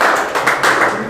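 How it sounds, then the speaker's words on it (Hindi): A group of teachers and students at a study-centre award ceremony claps together, loud, dense and close, steady pattering applause filling the whole moment. "ताली बजा दीजिएगा भाई।"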